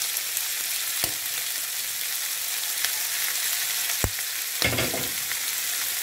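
Tomatoes and capsicum frying in a pan for a Goan chicken liver and gizzard chilli fry, a steady close sizzle with a few sharp scraping clinks as the mixture is stirred.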